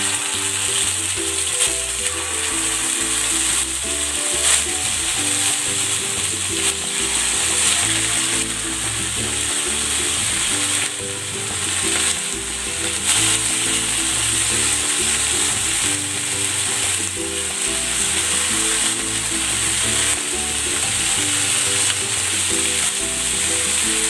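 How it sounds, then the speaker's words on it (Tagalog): Marinated chicken sizzles and fries in a little cooking oil, a steady loud crackle with rhythmic scraping or stirring pulses running through it and no talking. "Lalagay ako ng konting cooking oil. Ipan-fry ko muna itong chicken."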